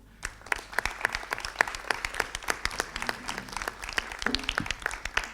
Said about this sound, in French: Et je pense que l'on peut l'applaudir.